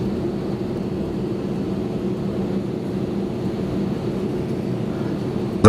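A passenger airplane slowing to a stop after landing on arrival in Greece: a steady, loud low-pitched cabin drone of engines and airflow that holds evenly throughout, with a brief bump at the very end.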